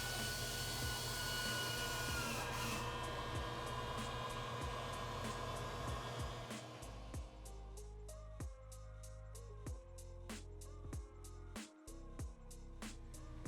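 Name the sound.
heat gun shrinking heat shrink on hose clamps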